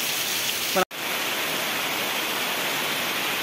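Steady rain falls over a flooded rice field in a Konkan village during paddy planting, a dense even hiss that holds throughout, broken once by a very brief dropout.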